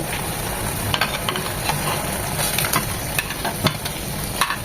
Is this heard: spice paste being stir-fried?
yes